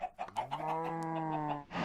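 A cake chicken in the video game Sky Factory 3 lets out one drawn-out, tonal clucking call lasting over a second, preceded by a few quick clucks, close and clear with no talk.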